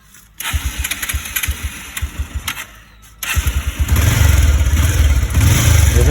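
A 2013 motorcycle is self-started: several quick cranking pulses, a pause, then the engine catches and settles into a loud, close, steady idle.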